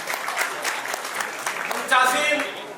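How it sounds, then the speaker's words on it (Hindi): Audience applause at a book release ceremony: a steady wash of clapping over the full stretch, with a voice talking over it toward the end. "जोरदार तालियों से उस बहन का अभिनंदन करें"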